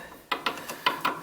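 A 5/16 stubby tool clicks in ratcheting bursts while an oil pump is removed from a Ruud 80+ oil furnace, with five sharp close ratchet strokes and short pauses between them.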